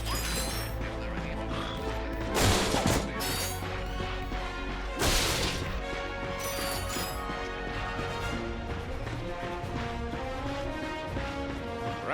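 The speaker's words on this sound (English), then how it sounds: "Ratchet smashed his enemies using his trusty Omni-Wrench." Ratchet swings his Omni-Wrench at enemies in Ratchet & Clank, with two loud crashing smashes standing out over busy game music and effects.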